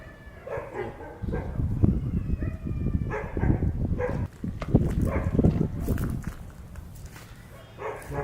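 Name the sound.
dogs barking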